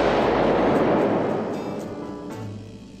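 A single loud, booming scoped rifle gunshot at the start, followed by a long rumbling decay that fades over a few seconds; no voices.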